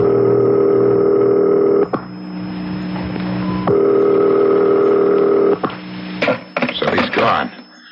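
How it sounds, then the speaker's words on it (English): A telephone dialing a number in an old radio crime drama, with steady tone stretches broken by short clicks, then a rapid run of dial pulses and switching clicks near the end, close and fairly loud. "Dial. I'll call his private number."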